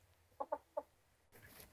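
A blue hen chicken clucking, three short close clucks in quick succession followed by a brief rustle of movement.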